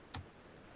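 A single sharp computer mouse click, close and faint, over a quiet background hiss during an online session.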